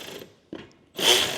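A ratchet tightens nylock nuts on a low profile roof top tent mount fitted to a Nissan GU Patrol, giving a short close clicking burst, a pause, then a louder sustained ratcheting.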